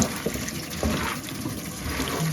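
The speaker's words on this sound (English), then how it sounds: "Wash out the lettuce." Running water pours steadily over lettuce being rinsed, a continuous close splashing gush with small irregular shifts as leaves move under the stream.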